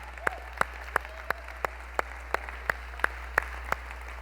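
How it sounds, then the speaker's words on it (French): Sharp, evenly spaced hand claps repeat at a steady rhythm, about three per second, over a low constant hum. "j'aimerais ça vraiment qu'on puisse donner une bonne main d'applaudissement"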